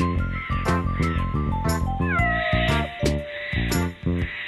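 A cartoon cat in an Indonesian animated film meows and caterwauls repeatedly in a loud, rhythmic series of drawn-out cries over music-like backing, close and alone without speech.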